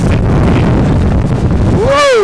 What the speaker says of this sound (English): it's quite a lot of wind